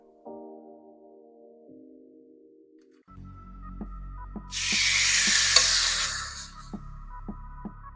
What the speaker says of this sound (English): Love that sizzling sound right there.